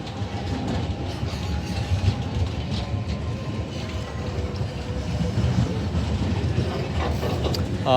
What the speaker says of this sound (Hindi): चालीस कोचेज़ के साथ ये ट्रेन मूव कर रही है, कार्गो फ्रेट ट्रेन।